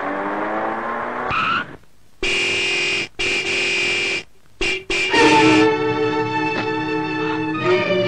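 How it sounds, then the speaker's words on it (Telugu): A car horn honks in a scene from a Telugu family drama film: several long, loud, steady blasts separated by brief gaps, the last stretch running on with a slightly shifting tone. "హార్న్ కొడుతుంటే వినపట్టం లేదు?"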